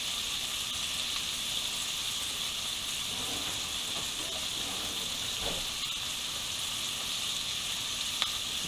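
Steak sizzling in a cast-iron skillet, a faint, even hiss of frying that holds steadily throughout, with a single small tick near the end.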